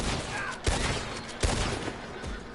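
Two sharp video game gunshots crack out about a second apart over a loud, noisy background of game ambience.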